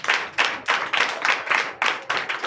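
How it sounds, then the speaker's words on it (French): A small group in a Sunday church service in Benin claps in a quick, rhythmic beat of about four or five claps per second, close and lively, with no talking over it. "Donnez l'acclamation au Seigneur Jésus."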